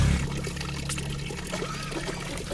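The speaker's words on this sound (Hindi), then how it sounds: "ऑटोमेटिक यह पानी गिर रहा है नीचे की तरफ" Water gushing on its own out of a borewell and falling downward, a steady continuous pour and splash heard close by with no speech over it.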